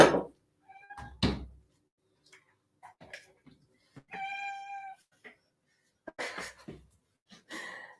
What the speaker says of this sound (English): The cats, they're going crazy today.